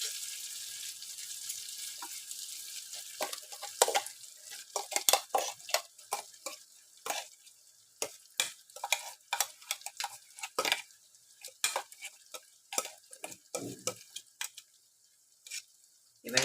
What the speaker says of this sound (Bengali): এবার এর সাথে ধনেপাতাটা পেস্টটা আবার সুন্দর করে এর সাথে আমি ফ্রাই করব।